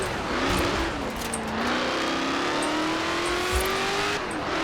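A Dodge SRT in Forza Horizon 4 revving as its engine pitch climbs steadily over a few seconds, a loud continuous game engine drone with a faint tire squeal and no talk.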